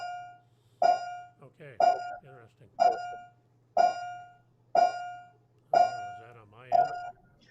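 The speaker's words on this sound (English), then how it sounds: "that's our alarm at the water treatment plant" An alarm at a water treatment plant beeps steadily, seven evenly spaced tones about a second apart, sounding thin and distant over a low constant hum, as if heard through a phone line.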